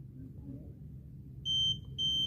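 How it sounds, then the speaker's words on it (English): Two high electronic beeps from a fingerprint lock on a Godrej Centurion Plus almirah sound in quick succession near the end, each clear and sustained, over a low background rumble. "Press it till you hear 2 beep sounds."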